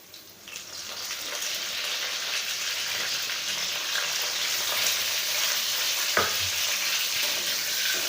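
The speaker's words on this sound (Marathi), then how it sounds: "वांगे थोडीशी परतून घ्यायची होती" Stuffed brinjals sautéing in a pan of hot oil with browned garlic, a steady close sizzle and crackle that swells after the first second, with a sharp clink of a utensil against the pan partway through.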